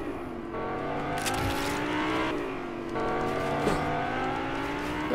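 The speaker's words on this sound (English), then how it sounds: "There's a dude driving a car." In a video game, a car drives by with a steady engine hum and repeated rising revs. Faint tire noise comes through, all at moderate loudness with no talking.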